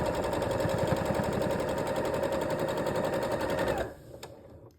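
A sewing machine stitches quilt block units in a fast, even run of close mechanical rattling that stops abruptly near the end, leaving a faint click.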